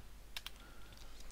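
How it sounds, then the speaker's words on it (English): A loud computer keyboard clatters in a few quick, sharp keystrokes over a steady low hum, with no talking. "Loudest keyboard in existence."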